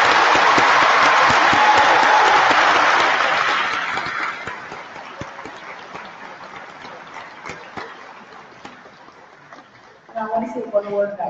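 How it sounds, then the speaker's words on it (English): Applause from an audience at a school district awards celebration, a dense burst of clapping that is loud at first and gradually tapers off, followed by a voice starting to speak near the end. "How about a round of applause?"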